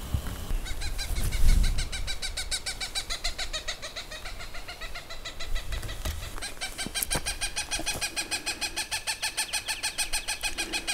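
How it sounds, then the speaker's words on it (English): Birds in the Oregon high desert call repeatedly in steady, rhythmic hoots and chirps, one voice pulsing regularly over a light breezy background, fairly close, with no talking. "enjoying all the sounds of the birds"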